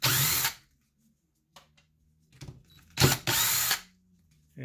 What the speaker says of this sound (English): remove the screws that hold the voltage regulator on.